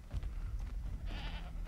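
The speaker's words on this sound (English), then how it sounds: "Look at those damn cows and goats" A goat in the video game Assassin's Creed 3 gives a short nasal bleat near the end, over low rumbling game ambience, with no speech.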